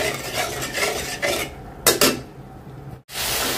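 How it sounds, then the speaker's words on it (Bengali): Spice paste for a thin shing fish curry stirred and fried in a pan: loud, close scraping of a utensil against the pan with gritty sizzling, a pause, then steady frying again. "মশলাটা ভালো করে কষাই নিচ্ছি।"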